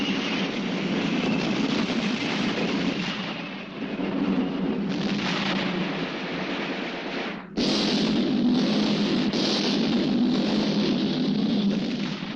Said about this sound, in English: 4 tanks moving in fast.